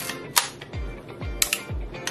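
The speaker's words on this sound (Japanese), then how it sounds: "シャッターは切れます。" Several crisp mechanical shutter releases from an old Minolta rangefinder film camera, each a sharp click with a short whir, spaced about half a second apart, close and fairly quiet with no talk.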